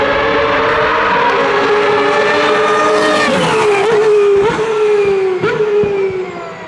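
A Ferrari 333 SP race car at Spa screams past with a high, sustained engine note, loud and close, then the pitch drops and the sound fades as it moves away.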